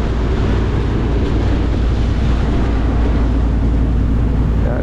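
Sea waves wash around a boat at sea, a constant loud rushing of water mixed with wind buffeting on the microphone, unbroken and without speech.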